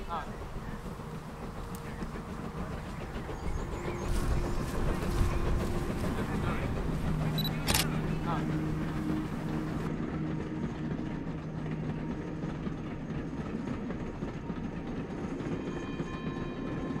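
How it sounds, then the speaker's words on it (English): A train hauled by the Flying Scotsman steam locomotive passes at a distance with a steady rumble and clatter of wheels, accompanied by wind and outdoor background noise. "Actually captured a train passing through and the Flying Scotsman."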